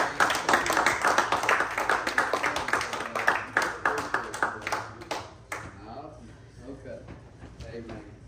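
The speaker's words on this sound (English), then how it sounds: "hand clap as they come in." A church congregation claps hands in a steady rhythmic beat for several seconds, then the clapping stops abruptly and fainter room sound remains.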